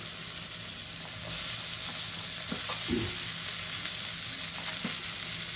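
Bitter gourd, onion and green chili frying in oil as potatoes go in, a steady close sizzle with a few clunks and stirring scrapes, no voices.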